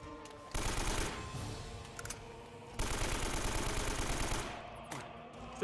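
Two sustained bursts of rapid automatic gunfire in Uncharted: Drake's Fortune on PS4, loud and continuous, separated by a short lull, with no talking.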